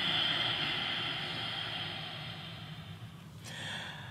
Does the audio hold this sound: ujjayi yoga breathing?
yes